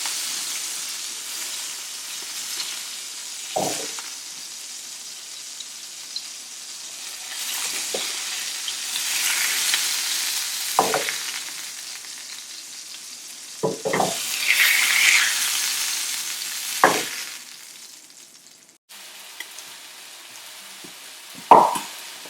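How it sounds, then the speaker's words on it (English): Kebabs frying in a pan, a steady close sizzle with a few short scraping stirs and clinks scattered throughout, no talking. "Okay, I've fried all the kebabs"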